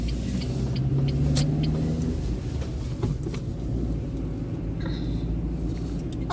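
A car climbs uphill, heard from inside as a steady low engine rumble and road noise throughout, with faint bumps along the way.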